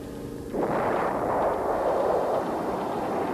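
A US air strike explosion from Vietnam War footage, heard as a sudden heavy blast about half a second in that rolls into a long, loud, rumbling roar sustained to the end.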